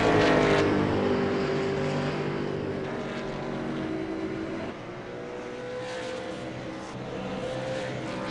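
V8 Supercars lapping slowly on outlaps at Barber Motorsports Park, engines droning with shifting pitch as cars pass, loudest at the start then fading to a steadier, more distant hum with another car rising near the end.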